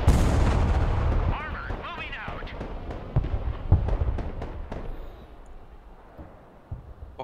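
Bombs explode in the war video game Broken Arrow: a heavy booming blast opens, then several sharp explosions and rumbling tails follow, loud and close, with a brief voice mixed in.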